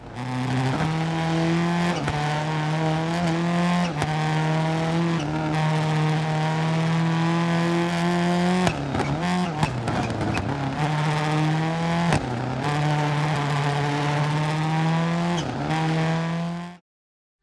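A racing video game car drives and revs steadily, its engine holding a strong harmonic drone with repeated rises and falls as it shifts and accelerates, alone and loud from start to finish.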